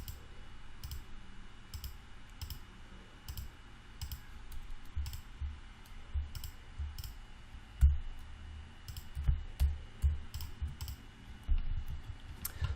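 A computer mouse gives soft, sharp clicks at an irregular pace, faint and close over quiet room noise, with no talking.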